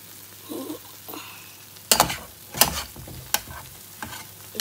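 Plantain frying in hot oil in a Gambian kitchen, with sharp crackling sizzle bursts and a few stirring scrapes against the pan, close and moderately loud with quieter gaps between.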